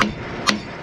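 A hammer knocks weeds off the tines of a tractor implement, two sharp metallic strikes about half a second apart, loud and close with no voices.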